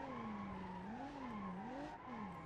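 Tyres skid as an all-wheel-drive car holds a slide in the BeamNG.drive driving game, a steady wavering squeal with rising and falling pitch over a constant engine drone, loud and continuous throughout.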